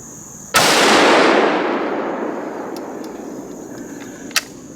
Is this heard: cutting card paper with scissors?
no